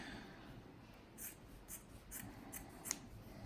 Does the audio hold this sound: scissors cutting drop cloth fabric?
yes